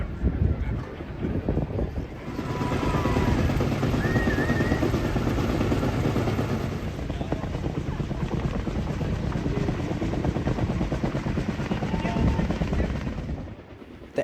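A helicopter hovers at Las Vegas Motor Speedway while delivering a 2023 Dodge Challenger SRT Demon 170, its rotor producing a steady, wind-buffeted roar that holds for most of the stretch before easing off.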